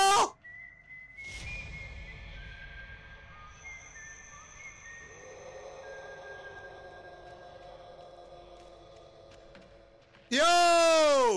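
In the Texas Chainsaw Massacre video game, an eerie high whistle echoes through the space in thin, sustained tones over low background hum, with a short burst at the start and a loud warbling tone at the very end.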